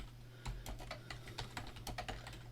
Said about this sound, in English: I'll type it here in the message